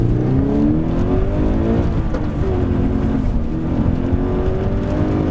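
A 2013 Toyota GT86 engine heard from inside the car as it accelerates hard, a loud, steady drone whose pitch climbs and then resets as it pulls through the gears, with no talking.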